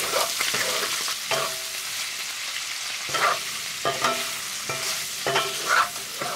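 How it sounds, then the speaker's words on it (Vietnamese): Shrimp and pork stir-fry together in a pan for a caramelized dish. A steady sizzle runs throughout, broken by repeated scraping strokes of a spatula at a loose, regular rhythm, close and clear. "Tiếp theo thì mình cho tôm vào xào chung với thịt."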